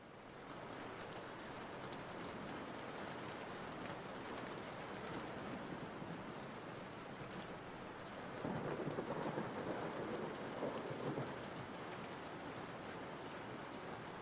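Rain and thunder ambience plays alone at low volume during a game stream, a continuous hiss of rainfall with a rolling rumble of thunder swelling toward the end.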